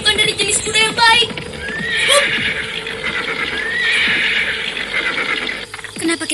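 In an audio drama, a horse gives a loud whinny and then a longer neigh over hoof clip-clop and rustling, with a voice speaking near the start.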